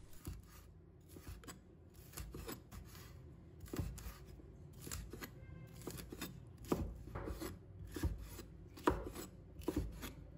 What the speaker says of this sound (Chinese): 再改刀切成菱形块